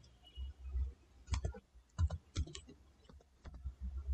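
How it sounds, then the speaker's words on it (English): Computer mouse clicks and keyboard typing while working in Windows 11, sparse sharp clicks and short bursts of keystrokes, close and quiet. "firstly click on start, then type regedit"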